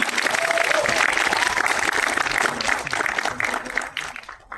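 Audience applause at a Marathi film song launch event in Pune, a dense crowd clapping that holds steady for several seconds and then tapers away near the end.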